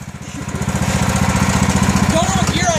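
Lawn tractor engine running close by, a loud, rapid pulsing chug steady throughout, with faint voices in the background.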